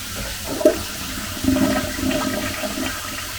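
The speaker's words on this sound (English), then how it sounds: "we're gonna flush it and let it go" Household toilet flushed at a home with a septic system: a sudden clunk of the handle, then a loud rushing, gurgling surge of water that keeps draining steadily, close by and with no talk.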